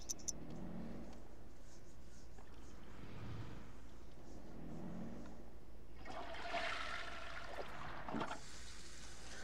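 A toilet flushes in The Sims, a mid-clip rushing swirl of water that drains off after a couple of seconds, following quieter muffled household sounds and indistinct game voice murmurs.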